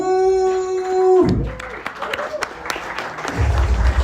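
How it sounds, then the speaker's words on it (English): Audience applause for comedian Andy Woo at a roast battle comedy event; it swells after a held tone and carries on as a steady clatter of clapping with voices talking over it. "Decent applause for Andy."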